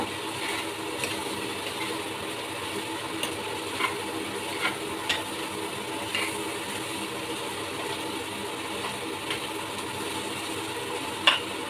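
Mixed tuber upperi stir-fry being stirred in a hot pan, heard as a steady low sizzle with occasional soft scrapes and clicks of the spoon against the pan, close and constant, with no talking.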